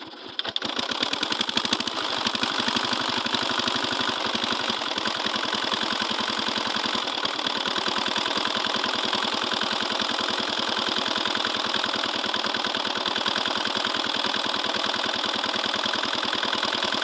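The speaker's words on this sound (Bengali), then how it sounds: "আপনারা দেখতে থাকুন কীভাবে আমি আমার মেশিনটা চালিয়ে ধান খেতে" An engine-driven water pump runs steadily while irrigating a rice paddy, a close, loud, continuous rapid mechanical chugging with a dense clattering rattle that holds unchanged throughout.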